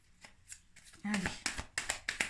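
Tarot cards riffled and shuffled by hand during a reading, with a soft rustle followed by four sharp, close snapping bursts as the cards are bridged and dropped, while a voice talks lightly underneath.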